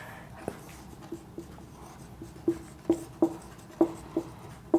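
Pen or chalk strokes write a line by hand during a lesson, making a series of short, sharp taps and scratches that come faster and louder toward the end, with no talking over them.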